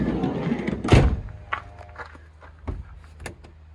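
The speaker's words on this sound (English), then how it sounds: "I'll close the door" A VW California Beach camper van door thuds shut once, a single solid closing thump followed by a couple of softer knocks, with no talking.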